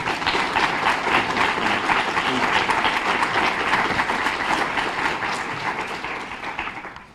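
Lecture audience applauding to welcome a guest speaker: sustained, loud clapping from a full room that holds steady for several seconds and then fades toward the end.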